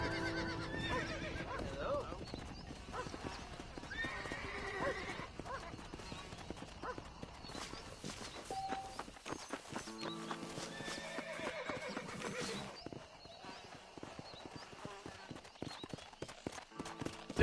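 Horse in Red Dead Redemption neighing and whinnying amid steady clip-clopping hooves, with game music and a voice talking over much of it, the hoofbeats continuing throughout.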